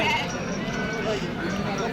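Sheep and goats bleat amid the steady crowd din of a busy livestock market at Atpadi, with people talking throughout and no clear single call standing out.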